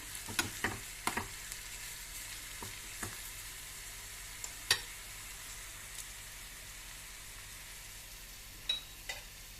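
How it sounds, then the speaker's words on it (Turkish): Onions and carrots sauté in a pan for kısır under a faint, steady sizzle, broken by scattered light clicks and scrapes of stirring. "biraz da böyle havuçla birlikte kavuralım"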